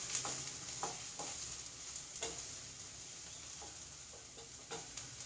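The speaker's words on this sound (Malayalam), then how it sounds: "വെളിച്ചെണ്ണ ചൂടായി വരുന്നുണ്ട്. അതിലേക്ക് ഞാൻ ഈ സവാള ഇട്ട് കൊടുക്കട്ടെ." Sliced onions fry in hot coconut oil with a quiet, steady hiss, punctuated by several light stirring clicks and taps at irregular intervals.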